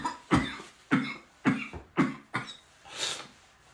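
A dry cough repeated about six times in a steady rhythm, each burst short and close, with a softer, breathier one at the end and no talking.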